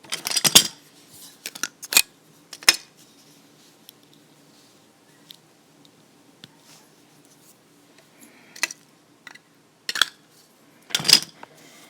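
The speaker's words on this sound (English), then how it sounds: "And now I can trim my thread." Scissors snip through bracelet thread in a few sharp, close clicks, grouped in short bursts with quiet pauses between.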